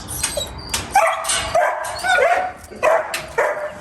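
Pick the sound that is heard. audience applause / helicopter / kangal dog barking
kangal dog barking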